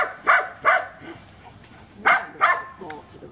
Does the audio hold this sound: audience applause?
no